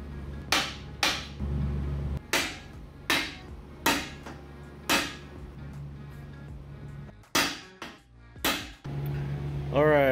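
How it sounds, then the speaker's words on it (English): A Milwaukee stubby impact wrench removing a 1 1/8 inch pinion nut from a 10.25-inch Sterling axle: a series of sharp, loud hammering bursts, about a dozen, spaced irregularly, close up in a workshop. "the pinion nut is 1 1/8 inch. No problem for the little Milwaukee stubby."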